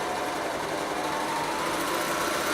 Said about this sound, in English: I can actually overlock and sew my seam in one action